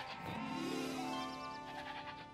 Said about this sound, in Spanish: ¿Una cabra en un barco?